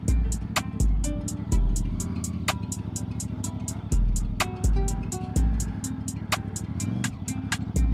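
A CFMoto CLC 450 cruiser motorcycle rides along with a low, steady engine drone and gear-change dips, heard up close from the rider's position with constant hiss and no talking.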